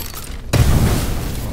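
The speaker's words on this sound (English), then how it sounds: "let's try the flame grenade." A flame grenade detonates in Steelrising with a sudden loud deep boom that follows a moment of quiet, then rolls into a sustained rumbling roar that slowly fades.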